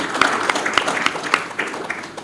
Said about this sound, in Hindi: कृपया हमारे प्रेसिडेंट के लिए तो तालियां बजा दीजिए